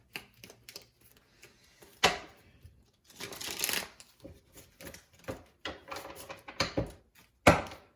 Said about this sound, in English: I did shuffle these like I said on camera, but we're gonna 2-3 times.